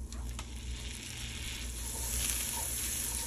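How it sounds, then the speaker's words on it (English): Butter melting in a pot on a stove at moderate heat, giving a steady, soft sizzle and crackle that holds evenly throughout with no talking. "And just let this butter melt."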